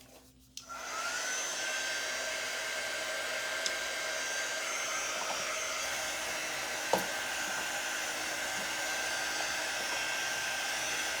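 A hair dryer runs steadily and loudly, close by, drying a transfer on a coaster being decorated by hand; it starts with a click and holds a constant whir with no talking.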